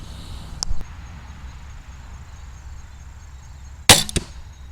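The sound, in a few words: Barnett Blackcat crossbow shooting arrow into target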